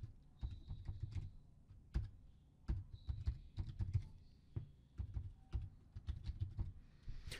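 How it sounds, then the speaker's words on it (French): Someone types on a computer keyboard, an uneven run of crisp key clicks and taps close up, some bunched quickly and others spaced apart, with no one speaking. "Alors je vais taper mon menu."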